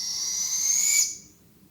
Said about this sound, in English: I never would have thought that owls would have made that sort of noise.